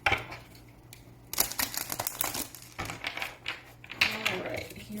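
Oracle cards being shuffled by hand, soft papery riffles and crinkly flutters in short bursts with brief pauses, close and fairly quiet over a low background hum.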